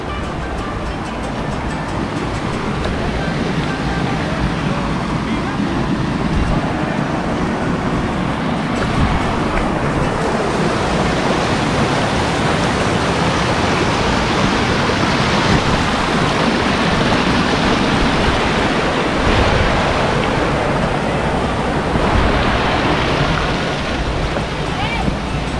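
Waterfall at El Barillo in Arcatao, Chalatenango, El Salvador: a loud, constant rushing roar of falling water filling the whole span without pause.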